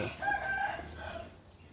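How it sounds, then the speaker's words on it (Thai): A rooster crows once at moderate distance in a quiet rural village yard in the morning, a drawn-out call fading into soft ambient background. "ไก่"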